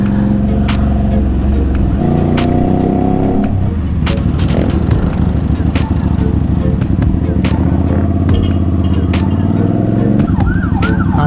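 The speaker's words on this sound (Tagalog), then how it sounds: "Ambulance, tabi." An ambulance siren passes on a rural road in Lian, Batangas, heard from a moving motorcycle. The wailing tone sweeps up and down over steady engine and wind noise, with a voice speaking briefly.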